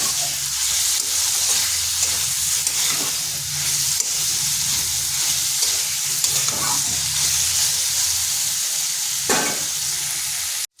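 A spice masala with ginger paste sautéed in a pot for vegetarian daliya khichdi: loud, even frying hiss over a long stretch with soft stirring scrapes and one sharper clink near the end.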